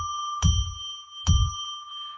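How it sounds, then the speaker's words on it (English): A bell is struck twice, each ring a clear resonant ding with a deep low thump at onset and a long sustained shimmer that rings on between strikes. "I'm going to ring a bell 3 times to declare sacred space."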